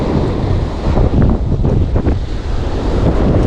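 Strong sea breeze and surf on a Jamaican fishing beach, steady wind buffeting the microphone over a continuous crashing wash of waves, loud and close with no talk.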